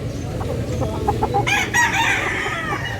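A rooster crows loudly and close by, its call rising and stretching over about a second and a half. Soft clucks come before it. A steady low rumble and background noise run underneath.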